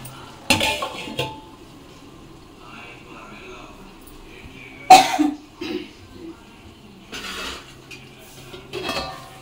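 A metal lid is set on a pan of prawn curry simmering on low heat: a few spaced, sharp clanks of metal on metal, close by in a quiet kitchen, with a cough, throat clearing and low voice sounds in between.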